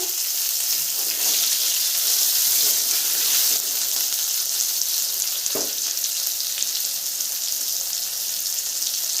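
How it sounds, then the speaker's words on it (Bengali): Raw mango and tomato frying in a pan, a continuous loud sizzle with faint stirring and one brief clink, no voices. "আমটাও দিয়ে দিব ভাজা হয়ে যাবে"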